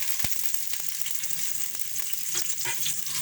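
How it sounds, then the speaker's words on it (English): Chopped onions frying in oil in a pot (sufuria) for vegetable biryani, giving a steady close sizzle with a few sharp crackles and a light stir or scrape partway through. "Then I'm going to put my chopped onions first."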